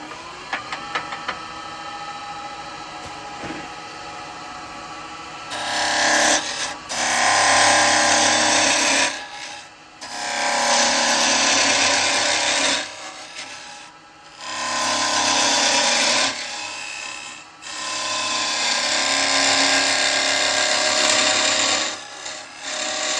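A chisel cuts into wood spinning on a lathe while turning mead cups, producing loud, rough scraping bursts of several seconds each, separated by brief pauses.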